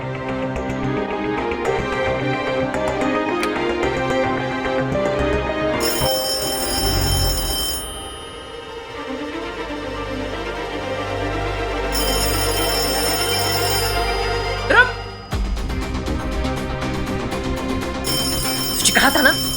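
An old telephone bell rings in bursts, a bright repeated trill that starts and stops several times. It plays over music and background sound, fairly loud and close, with people talking at points.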